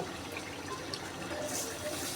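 Water runs steadily and softly, like a tap pouring into a bowl or sink, while rice is washed, with a slight rise in splashing near the end.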